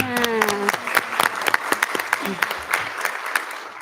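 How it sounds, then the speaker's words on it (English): A round of applause breaks out at a school board meeting, a short burst of clapping from a room of people, with a voice heard briefly at the start. "Another round of applause."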